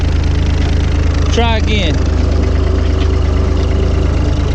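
A tractor fitted with a scraper blade idles and backs up while removing old stumps, its engine a loud, steady low rumble with a rhythmic throb, under a short spoken phrase.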